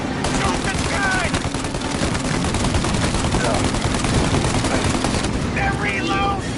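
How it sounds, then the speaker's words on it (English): Gunfire in Mafia Definitive Edition, a sustained dense fusillade of rapid shots filling several seconds, loud and continuous, with shouted voices cutting through near the start and end. "Shoot the gun!"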